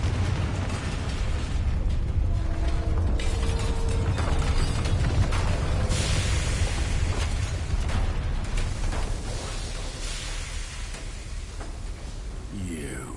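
Bombarda and Confringo explosion spells blast in the Hogwarts Legacy video game, several heavy booming bursts and crackling debris over a continuous loud rumble that fades slightly toward the end.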